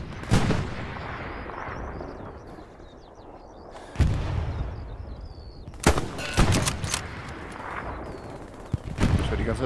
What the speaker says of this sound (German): Ich hör die ganze Zeit Schüsse links